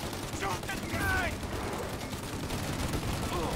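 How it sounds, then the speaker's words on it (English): Gunfire rattles through a shootout in Mafia: Definitive Edition, a steady dense stream of mid-level shots and mechanical clatter with faint game voices in the background. "Shoot out their gun when there's a break in the fire."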